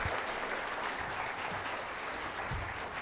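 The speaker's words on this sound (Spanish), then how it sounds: "Recibimos con un fuerte y caluroso voto de aplausos." Fairly quiet, even applause from an audience at a SENATI automotive mechatronics talk welcomes the speaker to the stage, a soft continuous patter of clapping with faint low thumps.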